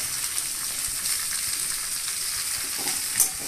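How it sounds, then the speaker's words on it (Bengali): Onion and capsicum stir-frying over high heat for chili soya cooked with little oil, a steady loud sizzle with bright hiss throughout and a brief sharper crackle near the end, no voices. "পেঁয়াজ ক্যাপসিকাম বেশি ভাজবেন না কিন্তু, মানে জাস্ট হালকা হাই হিটে ভাজা"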